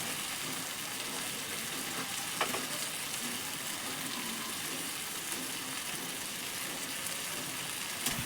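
Mutton stir-frying in a small kadai with plenty of fat gives off a steady, moderate sizzle with occasional light stirring clicks, and no one speaks.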